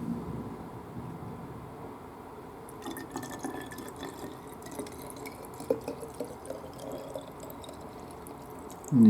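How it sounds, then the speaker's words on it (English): Fuel decanted and poured into a container, heard as faint drips and trickling liquid close by that settle into a thin steady pour after a few seconds, with no one talking. "Off camera, I'm decanting some fuel."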